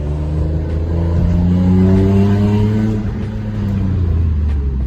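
A BMW E46 M3 with Porsche rear big brakes on a test drive, its engine droning loudly and steadily from inside the car with rising and falling revs as it accelerates and shifts.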